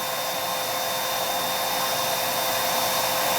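A wood lathe spins a natural-edge, three-foot bowl blank with a steady, loud, even motor whir and broad hiss, unchanging throughout, with no voices.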